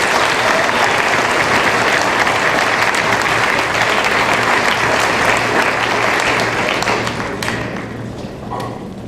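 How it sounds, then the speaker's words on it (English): Loud, sustained audience applause fills a graduation ceremony hall for an 8th grade promotion, dense clapping continuing steadily before tapering off near the end. "give a big round of applause to all our parent volunteers"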